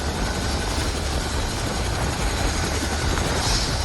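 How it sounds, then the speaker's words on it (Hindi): A rescue helicopter arriving during flood relief operations in Uttarakhand's mountains produces a loud, steady rotor and engine roar that fills the scene continuously without fading, with no clear talking over it. "अभी हेलीकॉप्टर यहाँ पहुँचा है और कुछ लोगों को लेकर के वहाँ से आया है"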